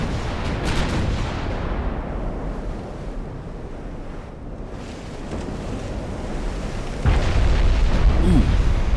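Warship guns fire and shells strike in Ultimate Admiral: Dreadnoughts, deep rumbling booms over a wash of sea and wind, swelling louder toward the end.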